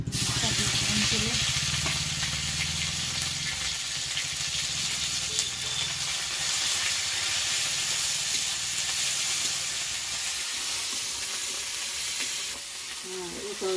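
Onions fry in hot oil over a lit stove, a steady bright sizzle that holds loud and unbroken for about twelve seconds, with occasional stirring and faint talk underneath before it drops off at the end.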